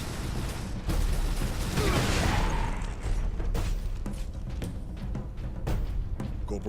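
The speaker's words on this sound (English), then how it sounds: "What the hell are they shooting at?" Gunfire from the Space Marine video game rattles on continuously with dense, overlapping bursts and heavy booms, loud and busy throughout with no speech over it.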